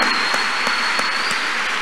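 A congregation claps hands at a church vigil, a dense continuous wash of applause with a few sharper beats, loud and near, with no talk over it.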